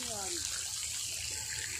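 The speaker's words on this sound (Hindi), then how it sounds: "देखो कैसे फाउंटेन चल रहा फाउंटेन चल रहे फाउंटेन गांव में" Water gushes steadily from a farm pump outlet in a village field, a continuous close splashing rush with a voice briefly heard at the start.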